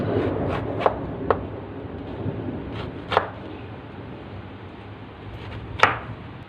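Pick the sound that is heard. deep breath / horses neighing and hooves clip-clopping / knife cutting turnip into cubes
knife cutting turnip into cubes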